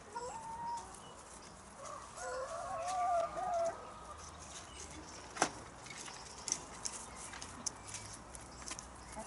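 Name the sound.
allotment hens clucking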